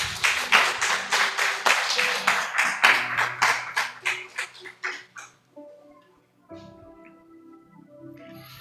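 A church congregation claps and applauds together, a dense burst of many hands that peaks loudly and then fades out over several seconds, leaving a quiet room with faint murmuring.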